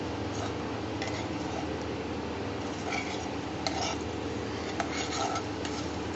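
A spoon stirs a thick flour paste around in hot oil in a kitchen pan, giving a steady low scraping and bubbling wash with faint clinks against the metal, close and even throughout.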